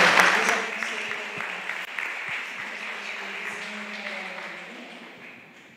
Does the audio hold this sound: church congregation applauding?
yes